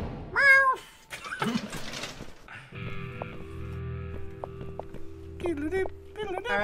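A cat named Teacup gives a few short meows, one bright meow near the start and more toward the end, between stretches of people talking and a steady background hum.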